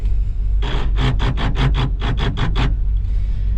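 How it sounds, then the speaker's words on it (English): Gears grind in an old manual truck of more than 30 years whose clutch will not engage, a close series of about nine harsh, rhythmic rasping bursts over a low engine rumble. "The clutch is not engaging. You can hear the gears grinding there."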